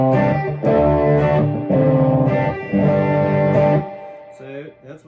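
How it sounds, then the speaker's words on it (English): An electric guitar played through a flat dry signal with a touch of spring reverb, strummed chords ringing in a few loud bursts that decay with a short shimmering tail. "This is what the dry signal sounds like with the spring reverb and just the flat."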